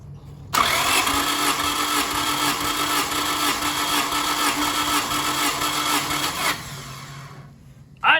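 A small race car motor, damaged after blowing up, cranks and catches, then runs with a steady loud broadband roar for about six seconds before cutting back to a quieter idle, heard up close with no talk.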